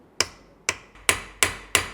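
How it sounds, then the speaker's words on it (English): A hammer strikes a steel chisel to scribe marks on a BMW E46 M3 rear differential shaft and nut. Five sharp metallic taps land at a steady, unhurried pace, close and clear, with no talking. "So I'm going to take a chisel and mark the shaft and the nut."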